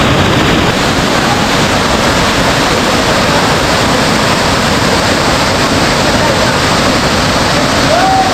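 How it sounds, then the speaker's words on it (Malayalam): Marachuvadu waterfall roars as a loud, continuous, broadband rush of falling water that stays steady throughout. "വളരെ ആസ്വാദികരമായിട്ടുള്ള ഒരു ദൃശ്യ ഭംഗിയാണത് ഇവിടെ വെള്ളച്ചാട്ടത്തിൽ നമുക്ക് കിട്ടുന്നത്."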